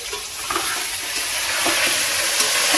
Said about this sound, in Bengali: এবার পরিমাণ লবণ আর হলুদ দিয়ে আলুগুলো আগে লাল করে ভেজে নেব।